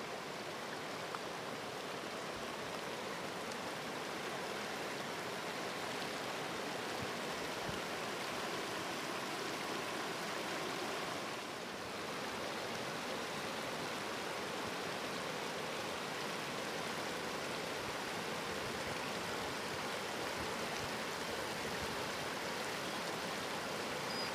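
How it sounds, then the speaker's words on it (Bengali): A fast-flowing hill river in Jharkhand rushes in a dense, continuous roar of water that holds steady throughout, with no voices. "জল কিরম ডাকছে দেখুন।"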